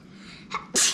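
A single sharp sneeze at a table during a flower pot craft session, with a brief intake just before it bursting into a loud, close burst at the end.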